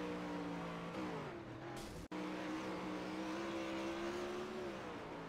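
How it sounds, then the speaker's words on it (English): A 360 winged sprint car engine at Volusia screams at high revs, its pitch rising and falling as the throttle works, with a brief cut midway before the loud, close roar resumes. "Just listen to that thing rev."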